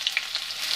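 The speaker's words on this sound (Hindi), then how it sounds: "अब हम बचे हुए तेल में प्याज फ्राई करेंगे।" Onions fry in leftover oil, making a brief, soft sizzle with a few faint crackles and pops.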